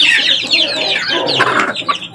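Young chicks being fed egg make a close, busy burst of clucks and cheeps, overlapping chirps packed tightly and fairly loud with no talking over them.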